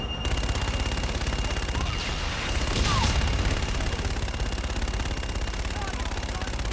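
Sustained fire support gunfire in Call of Duty Infinite Warfare, a dense continuous roar of rapid shots and blasts, loud and steady throughout with a swell near the middle.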